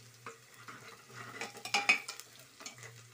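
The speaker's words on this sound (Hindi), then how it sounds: "मैंने इसमें जीरा डाल लिया है, प्याज डाल ली है तेल में।" Onions and cumin frying in hot oil for a mixed vegetable pulao, a quiet sizzle with repeated spoon stirs and light clinks against the pan, close up.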